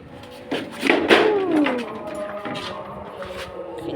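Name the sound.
pigeons cooing on a rooftop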